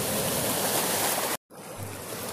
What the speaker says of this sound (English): where there's not a raging lake to compete with as far as volume is concerned